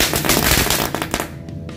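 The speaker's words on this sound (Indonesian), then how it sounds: "Ini mercon bunga teratai bisa berputar seperti gangsing guys" A spinning lotus flower firecracker crackles and pops in a dense, loud burst of rapid snaps that thins out and fades toward the end.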